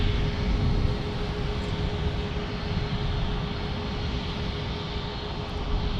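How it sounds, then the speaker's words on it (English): An Embraer E-175 airliner landing at San Diego, giving a continuous broadband jet rumble with a steady tonal hum, moderately loud and constant, with no talk. "we've got an E-175 about to land from San Francisco"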